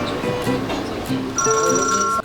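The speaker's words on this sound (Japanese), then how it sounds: "黒電話の音が懐かしくていいですよね。" An old black rotary telephone rings in the busy setting of a long-established restaurant, its tones rising over background clatter and chatter before cutting off abruptly near the end.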